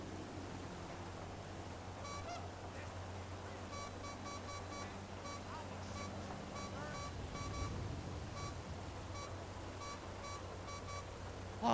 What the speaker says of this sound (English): that beeping noise really is not going away, is it?